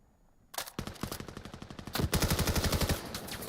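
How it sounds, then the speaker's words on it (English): Rapid automatic gunfire rings out during a long-range firefight in the VR shooter VAIL at a competitive match; sharp repeated bursts start suddenly, then merge into a dense, loud, rhythmic stream of shots with no voices. "Long-range firefight certainly on the menu."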